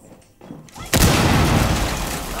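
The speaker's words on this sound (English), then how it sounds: "I shot a whole clip of warning shots." Rainbow Six Siege gunfire, a sudden loud burst that erupts and sustains as a dense roar of rapid shots, after a quieter stretch of muffled game noise.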